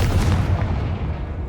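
A Confringo blasting spell fired in the Hogwarts Legacy video game, a loud, booming burst of rumbling explosive noise that rolls on steadily for about a second and a half without fading much.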